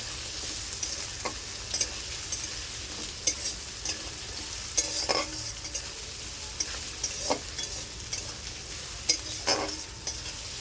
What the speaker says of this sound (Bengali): পেঁয়াজের সঙ্গে হালকা হালকা আলুটা ভেজে নেব